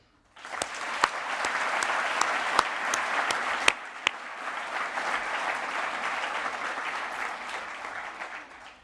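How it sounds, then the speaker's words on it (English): An audience claps steadily for several seconds at a 2023 master's graduation ceremony in a hall, a dense even wash of applause with a few sharp nearby claps standing out. "join me, dear graduates, in applauding all those towards whom you feel grateful today"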